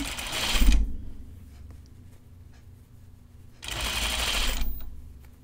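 A sewing machine stitches a curved seam on a Tea House Dress in two short, close bursts of whirring, separated by a few seconds of quiet background hum.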